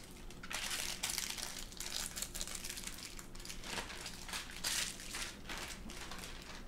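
A plastic bag filled with 16 ounces of Butterfinger candy bars crinkles and crunches as it is handled, in irregular bursts of rustling at low volume close up.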